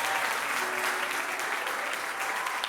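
A church congregation applauds, a dense, steady wash of many hands clapping together with a faint murmur of voices underneath, sustained without a break.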